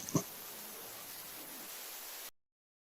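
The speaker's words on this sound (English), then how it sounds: "Put on the white noise first." Steady hiss of white noise played in a courtroom during a live trial, a short knock near the start, then constant broadband static that cuts off abruptly near the end.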